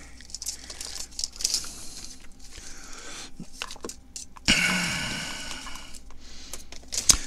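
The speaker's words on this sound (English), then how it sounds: "get out my roll of RGB stuff here and unwrap it" Plastic packaging crinkles and tears as a roll of RGB LED strip is unwrapped, with irregular close rustling bursts and a sharper, louder rip partway through.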